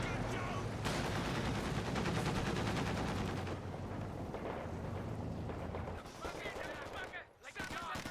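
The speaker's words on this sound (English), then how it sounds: "MG34 firing away, getting set on up" A German MG34 machine gun in Company of Heroes 2 fires rapid, rattling bursts mixed with other battle noise and explosions, while a commentator talks over the fighting.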